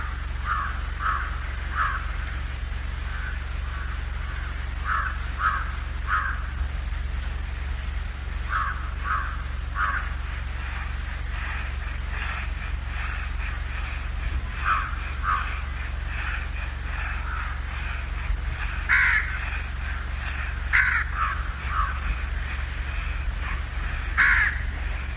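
Crows cawing in short bursts at a moderate distance, repeated calls spread throughout against a steady low outdoor hum, with a few louder caws near the end and no talking.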